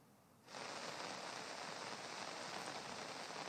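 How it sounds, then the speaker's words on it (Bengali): Heavy rain in Noakhali, Bangladesh, starts abruptly and then pours down as a steady, dense hiss, with no voices. "নোয়াখালীতে বৃষ্টি তো দেখতে পাচ্ছি ঝরছেই"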